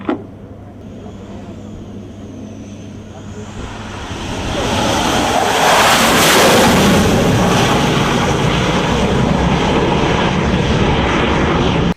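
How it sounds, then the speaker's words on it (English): A jet aircraft, an F-18 type, makes a touch-and-go on an aircraft carrier flight deck at sea. Its engine roar swells from a distant rumble into a loud, sustained blast that holds to the end. "That is called a touch and go."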